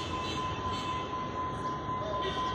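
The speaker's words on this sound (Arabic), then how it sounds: "في انتظار القطار وهو قادم" An approaching fast passenger train nears a station in Egypt, giving a steady, continuous rumble with a faint high whine throughout.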